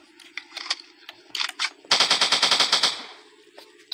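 Rapid bursts of automatic gunfire from a dinosaur hunting simulator game on Android, a dense run of repeated shots lasting about a second with a few scattered shots before it, loud and up close with no talk.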